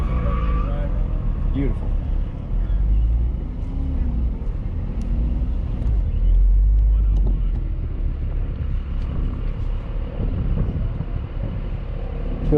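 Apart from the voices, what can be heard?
race car driving on autocross course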